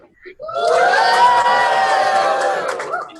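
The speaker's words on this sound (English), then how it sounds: "If you want to unmute it, go ahead and give a cheer there, Lombardi." A crowd of school students cheers and shouts together over a video call, a loud sustained roar of young voices lasting a few seconds.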